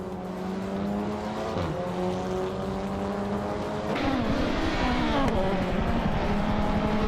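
Race cars roar through a racing video game, including a 2008 Volvo S60, with steady engine drone that rises and shifts pitch as cars pass, plus brief tire noise, loud and continuous with no talk.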